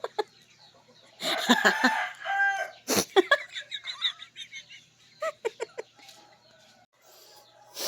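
Chickens cluck and squawk nearby in short irregular bursts, with a rooster-like crow partway through and quieter clucks trailing off.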